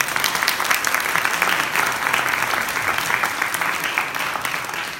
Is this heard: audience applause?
yes